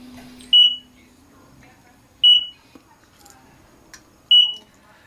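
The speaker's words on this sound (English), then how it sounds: "those series of loud audible beeps that you heard was the machine doing its internal self-diagnostic test" An IPEX Genesis F3 electrofusion processor sounds three loud, short, high-pitched beeps at even intervals during its power-up self-test, with faint background noise between them.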